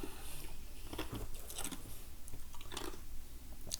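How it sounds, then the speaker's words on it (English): Food is chewed close to a microphone during a casual podcast recording, giving steady wet crunching and mouth noises over a constant background hiss. "could hear my chewing"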